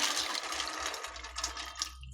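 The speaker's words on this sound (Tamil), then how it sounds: "இதில் இப்போது கொஞ்சம் தண்ணி ஊற்றி" Water poured into a cooking pot for boiling soya chunks, a steady splashing gush for about two seconds that tapers off at the end.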